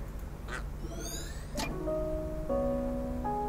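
Several ducks quack in the game Finding Paradise, a few short separate calls near the start followed by layered tonal game music, with no talking.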